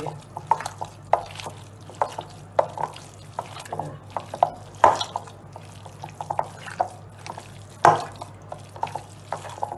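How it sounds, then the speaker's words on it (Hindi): Minced meat (qeema) being mixed by hand with a marinade of turmeric and gram flour, producing soft, wet squelching and slapping sounds in irregular bursts close by, with no talking. "अब हम इसको अच्छी तरह मिक्स कर देंगे और मैरिनेट के लिए 2 घंटे पड़ा रहेगा"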